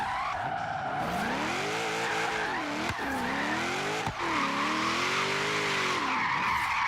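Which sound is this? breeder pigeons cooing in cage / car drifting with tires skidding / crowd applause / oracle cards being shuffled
car drifting with tires skidding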